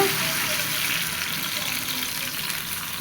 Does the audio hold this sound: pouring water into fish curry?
yes